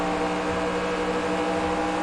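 A stock car engine in the NASCAR Racing 2003 Season video game roars steadily at high revs, a constant loud droning tone with no breaks.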